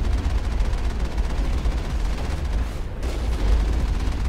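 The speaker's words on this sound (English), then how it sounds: "the gunfire is like just randomly coming from over there" Gunfire in the Mass Effect video game against Geth robots in tunnels, dense rapid bursts and booms rattling continuously with a brief dip near the end, no talk.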